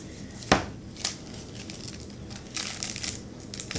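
A small plastic bag being handled during chocolate packing, giving a sharp crinkle followed by scattered fainter rustles and crackles, with a denser burst of crinkling near the end and no talk.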